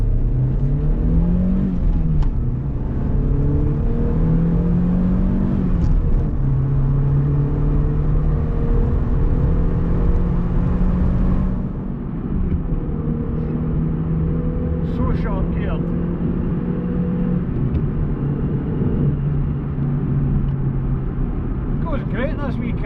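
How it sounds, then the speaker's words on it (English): A Vauxhall Corsa B GLS 1.4Si pulls away from inside the cabin, its small petrol engine droning and climbing through several gear changes, steady and loud with road rumble throughout. "Acceleration run."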